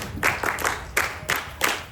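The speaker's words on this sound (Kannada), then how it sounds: "ಅವ್ರು ಚಪ್ಪಾಳೆ ಬರಲಿ ನಿಮ್ ಕಡೆಯಿಂದ." An audience at a gathering gives brief, loose clapping in several uneven bursts, moderately loud and without speech.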